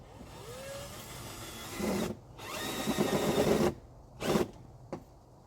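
Power drill driving long screws into a surface while mounting solar security cameras, with several whirring bursts of varying length that start and stop, close by and fairly loud.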